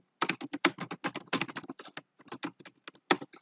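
Someone types on a computer keyboard while writing a program, a fast, close run of crisp key clicks with a few brief pauses and no talking.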